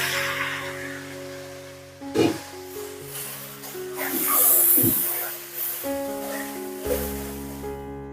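A splash of water goes into ground spice paste frying with salt and turmeric for a phali fish and bori curry, setting off a steady hiss and sizzle with soft bursts. Sustained tones play in the background.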